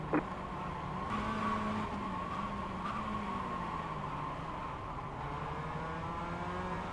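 Race car in a racing video game sliding through a corner, its engine droning steadily with a tire squeal rising over it, loud and continuous with no talking.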